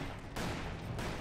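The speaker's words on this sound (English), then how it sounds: "And that bloody thing cooks off its ammo for" A vehicle wreck in the Western video game Call of Juarez: Bound in Blood cooks off its ammunition in a dense, continuous crackle of rapid bangs, loud and alone.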